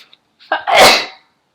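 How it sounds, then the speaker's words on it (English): A single sneeze bursts out close and loud after a short inhaled build-up, ending abruptly with quiet afterward. "I'm about to sneeze."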